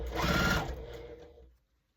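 Sewing machine running a short burst while stitching batik quilt strips onto a white strip, a close, fast rhythmic whir that speeds up and then slows to a stop.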